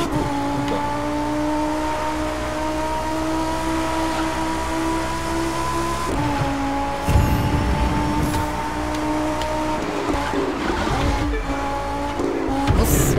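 A car engine roars steadily through a curve in The Crew 2 racing game, a sustained droning tone that dips and shifts near the middle, with rough tire and track noise building in the later part.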